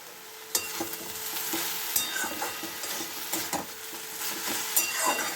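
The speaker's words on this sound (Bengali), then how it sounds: "এবার একটু সবজিটার সঙ্গে মেথি শাকটা ভাজা ভাজা হয়ে যাবে" Fenugreek greens frying with vegetables in a pan, a continuous sizzle broken by repeated scraping stirs of a spatula, close and alone.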